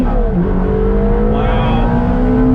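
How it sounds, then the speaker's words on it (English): A 2000 Ferrari 360 Modena at full throttle, its engine loud and close with a rising, high-revving wail that climbs through a brief gear change. No talk can be heard. "let's do a little acceleration test on throttle."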